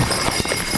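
Horse hooves clip-clop at a walk on a snowy path as the animal pulls a sleigh, steady close steps over a continuous background rumble.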